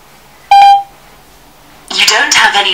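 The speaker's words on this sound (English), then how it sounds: "So I'm going to try and make a call with each of these now." A smartphone voice assistant placing a call to voicemail gives a short electronic tone, followed after a pause by a brief burst of synthetic speech. Both are loud and close.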